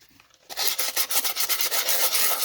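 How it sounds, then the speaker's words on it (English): Fine-grit sandpaper rubs over a cast Aquacast texture in quick back-and-forth strokes, a close, rhythmic rasping that starts after a brief quiet moment. "I'm using a fine grit sandpaper."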